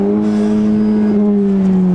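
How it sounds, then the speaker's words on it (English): A 2020 Honda Civic Si with a PRL cold air intake revs loudly and continuously in first gear, its steady drone sliding slightly lower in pitch, close and with no talk. "My footage is just gonna be me revving and letting off the gas."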